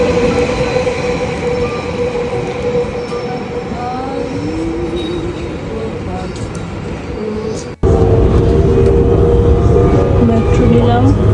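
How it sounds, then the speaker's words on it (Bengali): A Paris metro train rumbles steadily close by with rolling wheel noise and occasional squeals, briefly dipping near the end before the loud ride continues; no clear speech. "মেট্রো নিলাম"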